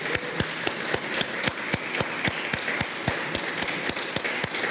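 A church congregation claps in a firm, regular beat, sharp distinct hits repeating roughly three times a second over a continuous background wash, moderately distant and without clear talk.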